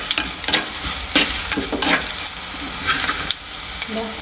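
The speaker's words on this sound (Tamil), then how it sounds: "வெங்காயம் பொரிஞ்சு வந்துட்டு நல்லா" Onions frying with fennel seeds in a pan for cuttlefish curry, a continuous close sizzle broken by bursts of spoon stirring and scraping.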